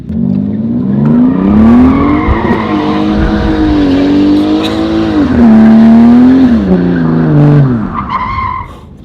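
A fast four-door car ride with a loud engine revving and rising and falling through the gears, tires squealing and skidding almost continuously, heard close from inside the car with no talking.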